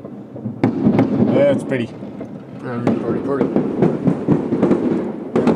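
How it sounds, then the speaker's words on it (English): New Year fireworks bursting in repeated booms and cracks, some sharp and some rumbling, while people talk over them. "There's fireworks over there."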